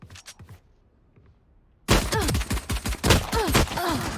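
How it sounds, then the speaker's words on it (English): Video game gunfire heard through a headset: a few faint shots first, then after a short quiet gap a loud, dense volley of rapid gunshots fills the rest, with automatic bursts echoing up close. "I shot him in the kneecap 10 times"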